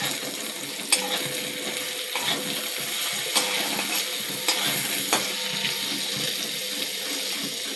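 Flat beans frying in a pan with cumin and Kashmiri chili powder, stirred as they cook: a steady, close hiss of sizzling with a few sharp clicks of the spatula against the pan and no talking.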